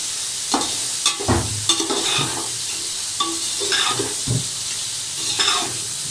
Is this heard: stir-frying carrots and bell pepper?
yes